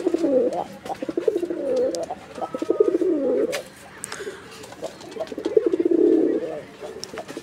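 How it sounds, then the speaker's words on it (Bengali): Kalshi-necked pigeons at a pigeon seller's coop, their low throaty cooing rising and falling in a few bouts, near and clear, with people talking over it. "এটা হচ্ছে কলসি গলার কবুতর নাকি ভাই?"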